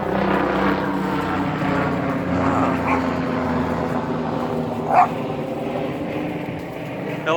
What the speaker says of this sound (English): I hear a helicopter coming over.